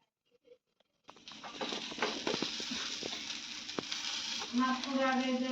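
Spices sizzle and crackle in a hot pan, a steady frying hiss with scattered pops and a few stirring scrapes.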